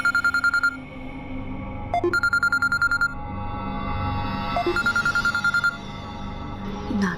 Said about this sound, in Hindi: नागेश जी के फोन